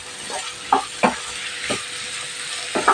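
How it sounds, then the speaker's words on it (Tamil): Gooseberries (amla) with added salt are sautéed in a pan for thokku, a low hiss of cooking broken by several distinct scraping stirs of a spoon against the pan. "ஒரு 10 நிமிஷமாக நம்ம இந்த நெல்லிக்காவை வதக்கி விடுவோம்"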